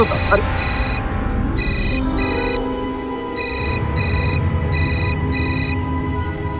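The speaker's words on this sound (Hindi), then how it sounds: "अरे फोन आ रहा है।" A phone rings with repeated electronic double trills in a steady rhythm, clear over a busy background of voices and room noise.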